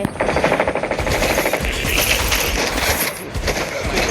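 Rapid automatic gunfire crackles in the video game Call of Duty, dense bursts of shots and clattering effects continuing almost without pause across the whole stretch.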